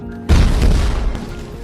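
A single deep boom bursts in suddenly and rumbles on, a loud explosion with a long, low roar that slowly fades.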